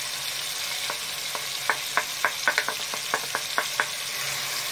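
Potato and eggplant curry with spices frying in a pan while being stirred, a soft steady sizzle under a series of light scraping and tapping strokes from the spoon, close and fairly quiet.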